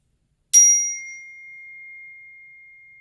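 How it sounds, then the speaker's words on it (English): A chime struck once in a family kids' yoga class gives a bright metallic ding that rings on and slowly decays over several seconds, clear and alone. "I'm going to ring my chime."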